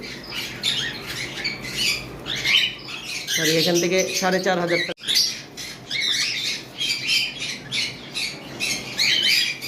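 Cockatiels kept in breeding pairs, many birds chirping and squawking together in a steady bright chatter under a voice talking.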